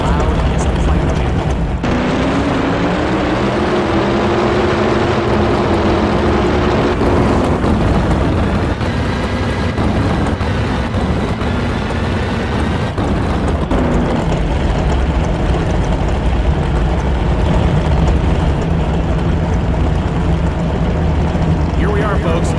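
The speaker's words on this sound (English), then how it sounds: "These engines hit decibel levels of 150 dB, which is as loud as a flight plane." NHRA Super Mod drag racing engines in a racing video game roar continuously at high volume, a dense sustained engine drone with rising tones as the cars launch and run down the quarter mile.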